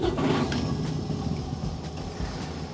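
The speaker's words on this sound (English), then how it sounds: "I'm gonna fully start my truck" A semi truck's diesel engine running right after start-up with the brakes set and the transmission in neutral, a steady close rumble with a low churning roar throughout and no one talking.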